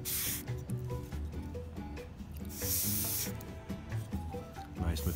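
An airbrush sprays paint onto a 15mm Jagdpanther model tank in short hissing bursts, with quiet handling sounds between them.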